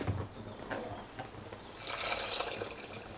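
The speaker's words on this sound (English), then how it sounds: "Now we add the water to create the gravy." Hot water is poured from a mug into a dry soy mince and aubergine curry mixture, starting with small splashes and swelling into a close, steady gushing pour.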